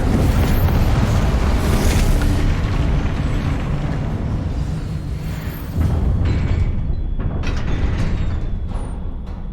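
A Confringo spell blast in Hogwarts Legacy during Charles Rookwood's trial, a dense roaring burst of fiery explosion noise that stays loud and sustained, rumbling through the whole stretch with a couple of swelling peaks.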